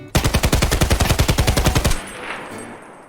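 Automatic gunfire from a weapon in the video game Escape from Tarkov, a rapid, evenly spaced burst of about twenty loud shots lasting nearly two seconds, then a fading echo and quiet room tone.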